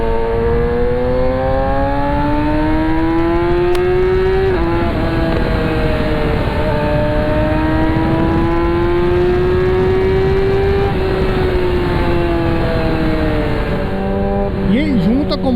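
Yamaha R6 600cc sport bike engine revving loudly and steadily, its pitch climbing and falling through several high rev sweeps with a brief dip near the middle, continuous and close for the whole stretch.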